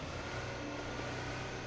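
A car driving away in the battle-royale game PUBG, a steady, fairly quiet engine drone that holds evenly throughout without talk.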